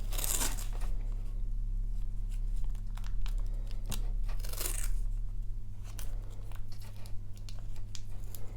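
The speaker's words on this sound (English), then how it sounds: "wrap the tape around the sharp edges and then cover it a few times" Tape is wrapped around the sharp edges of a scalpel blade, making intermittent tearing and crinkling bursts close by over a constant low hum.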